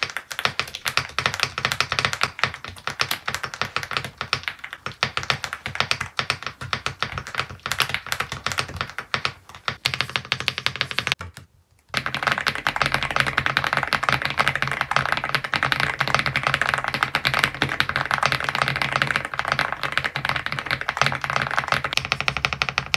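Continuous typing on a Leobog Hi75 mechanical keyboard, a dense run of close, steady key clacks with a brief pause near the middle before the typing resumes.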